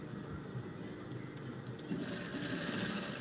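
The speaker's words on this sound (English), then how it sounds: "sewing a straight line" A sewing machine runs continuously while stitching a straight line, a steady mechanical hum and whir that grows slightly louder and busier partway through.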